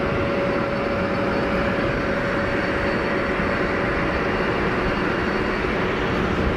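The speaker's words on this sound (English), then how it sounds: "That's Swiss taxiing out" Swiss Airbus A220 airliner taxiing out at Geneva Airport, a steady broadband engine rumble with a faint whine, continuous and fairly loud, with no talk over it.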